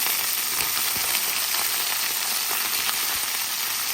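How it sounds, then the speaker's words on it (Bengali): Potatoes frying with onion and green chili in a pan, a dense continuous sizzle with faint crackles and light stirring, close and steady throughout. "আমি পেঁয়াজের কাঁচা মরিচটা এত ভাজবো না, আমি দিয়ে দেবো আলু।"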